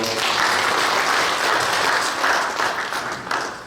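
A church congregation applauds warmly to welcome a pastor at an installation thanksgiving service, loud dense clapping sustained throughout and easing slightly toward the end.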